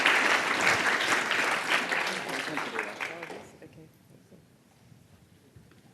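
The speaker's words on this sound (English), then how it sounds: "Big round of applause" An audience at a student showcase seminar claps loudly for about three and a half seconds, then the applause fades quickly to a quiet room with faint shuffling.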